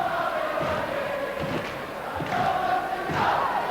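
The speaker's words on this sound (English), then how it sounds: "Great crowd in Kirkcaldy, as always" An ice hockey crowd in Kirkcaldy murmurs and cheers at a steady moderate level, with scattered shouts rising from the arena.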